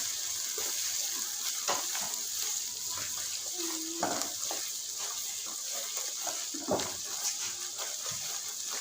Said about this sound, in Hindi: ऐसे इसको भी 2 से 3 मिनट के लिए अच्छा सा फ्राई कर लेते हैं, भून लेते हैं।